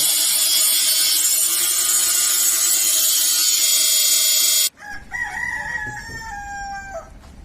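A loud, high-pitched electric whine runs for several seconds, then stops abruptly, followed by a rooster's long, clear crow at a newly built chicken coop.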